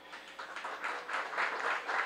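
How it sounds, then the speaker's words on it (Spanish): Audience applause for the employees of a public utility company at a municipal accountability hearing, steady soft clapping from a room of people, moderately distant and continuous for the whole moment. "Todos realmente se merecen también un gran aplauso"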